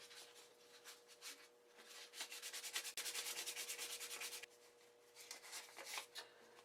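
Hand sanding a cast aluminum hinge from a Boler (Scamp) trailer before polishing, a steady rasping scrub in repeated strokes that swell louder in the middle, close up with no talking.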